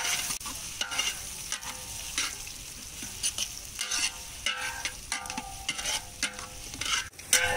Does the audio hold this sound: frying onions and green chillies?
yes